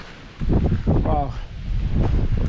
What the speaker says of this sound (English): A little breezy up here.